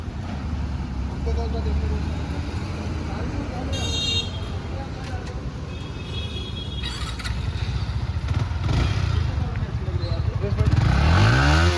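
Yamaha XSR motorcycle with a steady low exhaust rumble running throughout, swelling louder near the end as if revving or passing close, with traffic-like noise around it.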